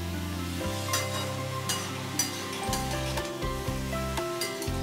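A spoon scrapes and stirs radish and eggplant with spices in a sizzling pan, giving repeated close scraping strokes over a constant frying hiss, with no talk.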